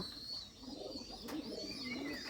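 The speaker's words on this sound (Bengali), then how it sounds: "দেখুন কবুতরগুলো কি সুন্দরভাবে ডাকাডাকি করতেছে" Bombay pigeons in their coop give faint, low cooing that swells toward the end, set against steady background noise and a thin high-pitched whine.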